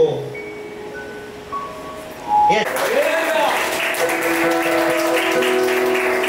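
Applause from a church congregation at a Sunday healing service breaks out about midway and carries on steadily to the end, with a voice speaking over the clapping.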